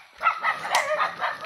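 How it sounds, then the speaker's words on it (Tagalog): Several dogs barking and yipping in rural farmland on the walk home, a rapid overlapping string of close, fairly loud barks with some whimpering tones, no talk over them. "Daming aso, umuusig."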